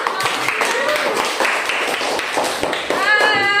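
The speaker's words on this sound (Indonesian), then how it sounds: "Semuanya tepuk tangan" A classroom of students claps for a group's presentation, a scattered, uneven patter of hands with voices mixed in and a brief sustained tonal sound near the end.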